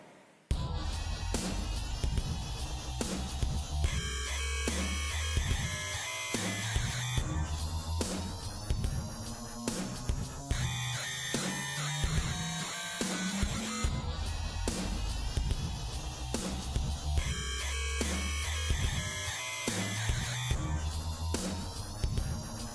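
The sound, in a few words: Raptor PX7 high-pitch synth patch with the wider sound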